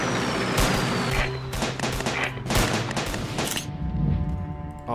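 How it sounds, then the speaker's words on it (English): Rapid enemy machine gun fire in the WW1 trench warfare strategy game Command of War, dense bursts of shots crackling through a busy battlefield mix with distant booms, loud and continuous. "Oh man, enemy machine gunners?"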